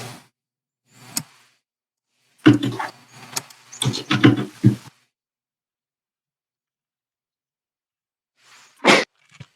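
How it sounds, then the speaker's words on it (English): One person sneezing during an online tabletop role-playing game session, a sharp burst amid scattered short noises and clatter, separated by long stretches of silence. "just sneezed"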